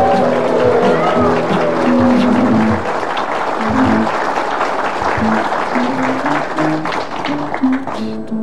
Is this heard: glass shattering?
no